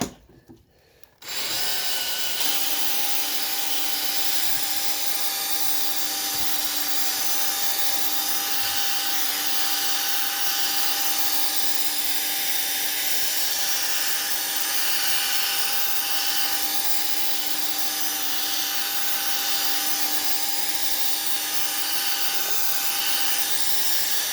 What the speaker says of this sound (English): I'll wet my 800 grit pad up here. Put it on my drill.